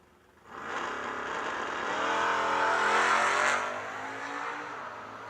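Drag racing launch at the Yellow Bullet Nationals with a Ford Mustang in the left lane, engines roaring loudly with rising revs that swell and hold, then ease slightly, no voices over it.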